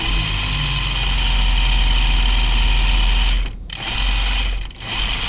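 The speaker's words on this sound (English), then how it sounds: "this machine can sew straighter than me, so I'm going to trust it" A sewing machine stitches fabric for a Wiksten Unfolding Jacket in a steady, loud, close mechanical hum that briefly dips twice near the end.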